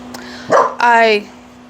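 A dog lets out two quick close barks, the second longer and more tonal, against a faint steady hum.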